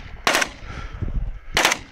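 An AKS-74u rifle fires in automatic mode outdoors, two short loud bursts about a second apart with a faint low rumble between them.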